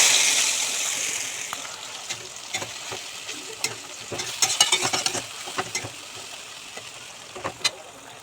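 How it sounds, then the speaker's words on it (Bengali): Spices tipped into a frying curry of potatoes and chhana egg koftas, giving a soft sizzle with scattered scraping and clattering of a stirring spoon against the pan, growing busier midway, no speech. "দেখো এই যে এবার মশলাটা সব দিয়ে দেবো।"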